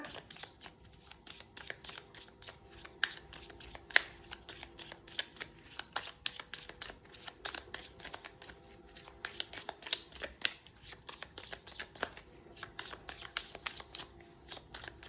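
Tarot cards being handled and shuffled, a dense run of soft rapid card flicks and riffles close by, quiet and continuous with no speech.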